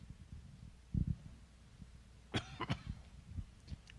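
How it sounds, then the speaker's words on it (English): A person coughs in quiet, close bursts, one pair near the start and a cluster of sharper coughs and throat noises later, faint against a still room. "I apologize for my coughing."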